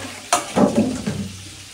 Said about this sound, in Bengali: ঠিক আছে মাছ ভাজি হইতে থাকো